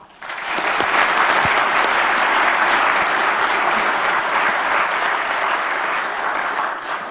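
Sustained audience applause fills a room after a talk at a programming conference session, many hands clapping steadily for about seven seconds at close, even loudness before tapering slightly.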